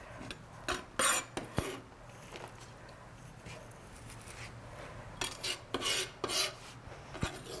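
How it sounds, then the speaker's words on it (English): Knife chops food over a bowl in a kitchen, scattered sharp taps and scraping rubs in uneven bursts, close but fairly quiet over a steady background hum, with no talking. "Just chop it up."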